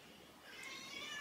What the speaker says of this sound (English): That's my cat, Potato.